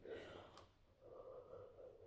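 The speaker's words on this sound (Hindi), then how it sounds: "सॉरी, उबासी आ गई।" A drawn-out human yawn with breathy, gasping onset, fairly close and alone, ending in a softer voiced sigh.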